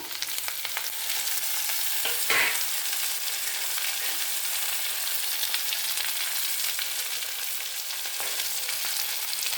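Onions, tomatoes and curry leaves fry in a pan with a continuous close sizzle and crackle, one brief louder spatter or stir near the start, and no voices.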